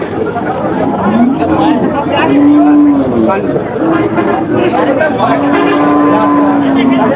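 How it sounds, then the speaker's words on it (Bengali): Several long, low moos from cows rising over a busy crowd murmuring and chattering nearby at a cattle market. "পোরাস জাতের গরু আপনারা দেখতে পাচ্ছেন বন্ধুরা"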